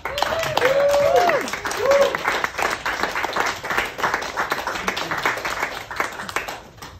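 An audience applauds to welcome a speaker at a book launch at KGB in New York, a steady burst of clapping that fades out at the end, with a voice calling out briefly near the start.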